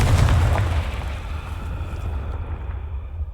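A Confringo blasting spell in the Hogwarts Legacy video game goes off as a loud, rumbling explosion, heavy low boom at the start that rolls on into a sustained roar and slowly settles, with no talking.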